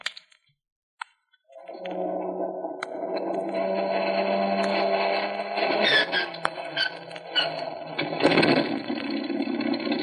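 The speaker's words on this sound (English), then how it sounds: "Here we go with engine number one." Aircraft engine number one starting in a radio drama effect: a few sharp switch clicks, then a loud, steady droning hum that builds and continues with metallic rattles.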